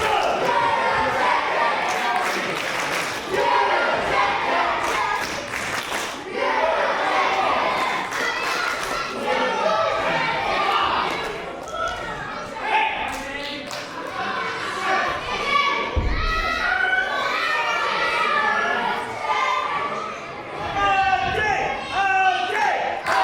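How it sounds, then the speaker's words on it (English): A crowd at a professional wrestling show shouts, chants and roars in waves, loud and constant, with scattered thuds and voices throughout. "you can hear the crowd really making their feelings known here"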